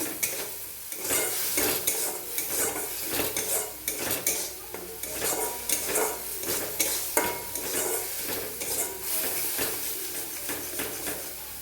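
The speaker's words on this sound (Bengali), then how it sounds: "দিয়ে একটু কষিয়ে নেব।" Spice paste for egg malai curry sizzles and fries in a pan, with a steady loud hiss broken by the frequent scrape and clink of a spoon stirring against the metal, close and continuous with no talk.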